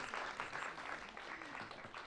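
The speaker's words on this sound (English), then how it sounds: "if we could give them a big round of applause for being here." An audience applauds steadily, a dense wash of clapping heard from a little distance for a couple of seconds.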